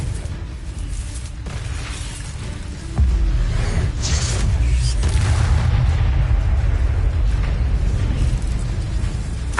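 A Confringo explosive spell blasts in Hogwarts Legacy, a loud, rumbling boom that hits partway through and keeps roaring with dense low-end noise to the end.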